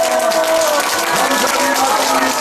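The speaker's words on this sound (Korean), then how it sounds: "할렐루야로 박수치며 환영합시다." A gathering greets a speaker with sustained clapping and crowd voices, including a voice calling out over the steady applause at a meeting with North Korean defectors.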